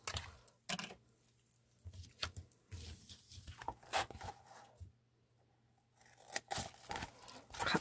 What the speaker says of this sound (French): Alors là, je vais couper l'excédent.